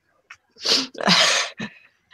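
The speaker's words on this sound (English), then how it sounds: "I'm sorry, I've got to sneeze" A single person sneezes up close, a short indrawn breath followed by one loud burst and a faint trailing exhale, otherwise quiet.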